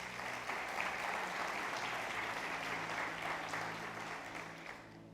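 A church congregation applauds during a family worship service, a dense, even patter of many hands clapping at once that holds steady, then gradually softens toward the end.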